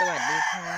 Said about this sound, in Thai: วันนี้ได้ยินเสียงไก่ร้องแต่คันแต่เช้าเลยนะคะ